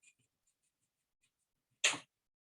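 A wire cutter snips a component lead for a breadboard speaker build, giving one short, sharp, fairly loud click near the end after near silence with faint small ticks earlier.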